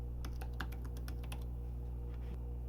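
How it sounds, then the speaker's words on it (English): Rapid clicking keystrokes on a computer keyboard as a password is entered, a quick irregular burst of taps that slows and ends with a final press, over a steady low electrical hum. "You're going to want to type in the password and hit Enter"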